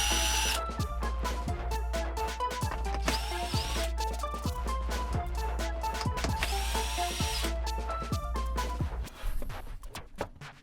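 A power drill whirs in repeated short bursts as it removes the keybed screws from underneath a Roland Juno 60 vintage synthesizer during restoration, with a steady low hum beneath and no talking.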